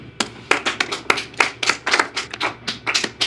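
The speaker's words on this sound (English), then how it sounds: "Let's all start clapping" An audience at a motivational seminar claps in sparse, uneven bursts, a small cluster of hands producing sharp close slaps with gaps between them, no voices over it.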